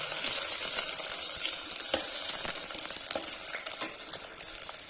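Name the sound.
ginger, garlic and chilies frying and being stirred in a pan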